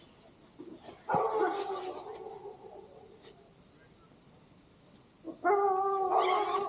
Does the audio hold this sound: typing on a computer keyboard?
no